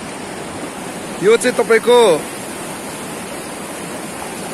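A flooded river stream in Dharan, Nepal rushes as a steady, loud, broadband roar throughout. Someone briefly speaks over it partway through.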